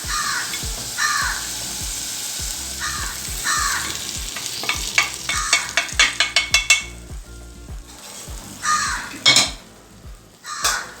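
Boiled quail meat tossed into hot oil and gently stirred, with sizzling and clattering spoon scrapes while crows caw loudly nearby in the background.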